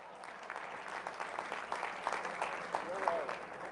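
An audience at a sermon claps in short bursts while the preacher keeps speaking over the applause.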